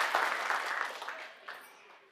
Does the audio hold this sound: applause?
yes